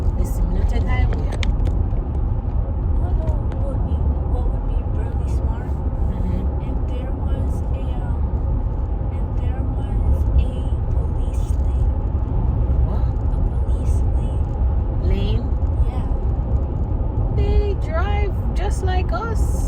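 Bumper-to-bumper highway traffic heard from inside a vehicle: a loud, continuous low engine and road rumble, with people talking over it.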